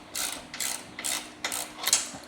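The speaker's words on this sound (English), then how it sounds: "it does help to have a 14 millimeter socket to kind of drive this down a bit" A ratchet with a 14 millimeter socket clicks through five quick, even strokes while driving down a tight fastener, crisp and close.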